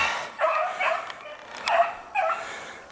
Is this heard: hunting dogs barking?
yes